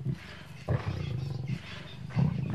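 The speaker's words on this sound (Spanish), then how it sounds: "7 leones luchando por su parte." Several lions roar and snarl while fighting over a warthog carcass, giving loud, repeated bursts of deep roaring with rough growling between them, close and without talk.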